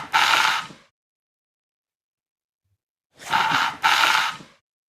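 A brief slurp through a straw, then after a pause a double sucking pull, airy and close, with silence between.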